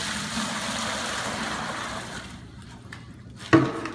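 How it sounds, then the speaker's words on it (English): Water pours in a steady rushing stream into a mixing bucket for concrete overlay for a couple of seconds, then tapers off, followed by a few splashes and a sharp knock. "Always put your water in first."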